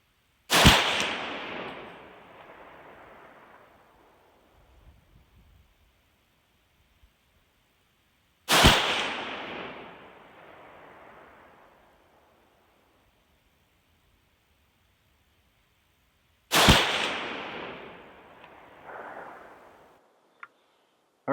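Three loud, sharp rifle shots from a Ruger Mini 30 fired at a target outdoors, spaced about eight seconds apart, each followed by a long fading echo with quiet between.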